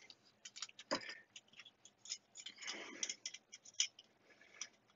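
Small 10 dB and 30 dB RF attenuators being unscrewed and pulled off a connector during a test setup for an LTDZ 35-4400 spectrum analyzer, giving a busy run of close, sharp metallic ticks and clicks with no talking.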